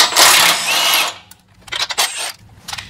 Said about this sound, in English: grabbed our 15mm or 5/8 socket, and we're going to go ahead and undo those